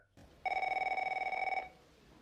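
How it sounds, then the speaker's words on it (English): A telephone rings once in the film Se7en, a single clear electronic trill lasting about a second against a quiet background. "Phone."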